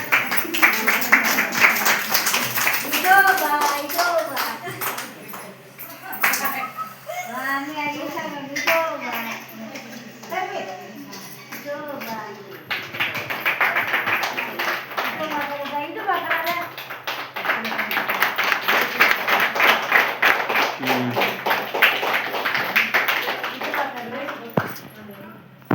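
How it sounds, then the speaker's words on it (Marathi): An audience claps at a local honouring ceremony, bursts of rhythmic applause rising and fading across the scene, alternating with stretches of speech over the clapping. "तुम्ही टाळ्या वाजवायचं काम करा"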